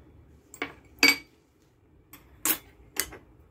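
Chopped ingredients and eggs being mixed in a bowl for crispy omelette batter: five sharp utensil clinks against the bowl, spaced irregularly, close and fairly crisp, with no talking.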